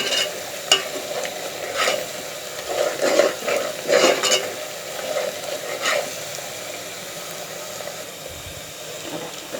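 Onions fry in a pan as the base for a kofta gravy. A soft, steady sizzle runs throughout, broken by irregular scraping and stirring clatter from a spoon against the pan.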